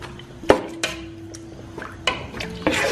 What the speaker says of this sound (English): I'm going to make sure I mix it